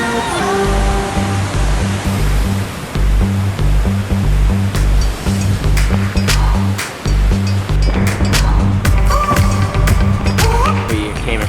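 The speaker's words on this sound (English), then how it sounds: "We came across Rattlesnake Falls. It's a beautiful cascading 50-foot waterfall." Rattlesnake Falls, a cascading 50-foot waterfall in a creek, roars as a loud, continuous rush of falling water, with scattered sharp clicks and knocks over the steady wash and no voices.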